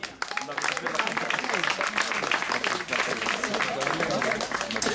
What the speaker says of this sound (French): Vos applaudissements pour Alix Pomeré.